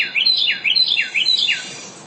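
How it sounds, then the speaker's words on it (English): Tufted titmice in a garden give a series of high, thin seep-seep calls, about four quick rising-and-falling notes, clear and close over a quiet background. "you might hear little seep-seep calls, which"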